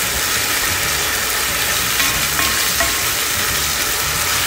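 Seafood macaroni gratin filling of shrimp and crab stirred in a hot pan, a loud, dense and constant sizzling hiss with soft scraping underneath, with no voice.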